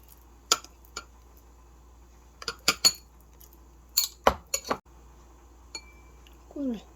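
Greek yogurt and honey mixed in a bowl, a spoon clinking and tapping against the dish in scattered sharp bursts with quiet gaps between.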